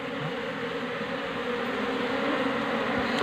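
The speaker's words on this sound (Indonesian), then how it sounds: "Dan di sini juga ada lebah drone-nya ini atau lebah jantan." Honey bees, drones among them, swarm around a hive set in a garden, giving a dense, steady, close buzzing drone that runs unbroken throughout.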